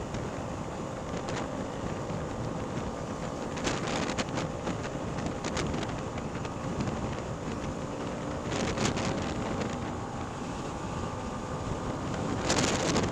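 A rented motor scooter rides fast on a road in Malaysia near Sepang, heard as steady rushing wind buffeting the microphone with a faint engine hum underneath, occasional gusts flaring louder.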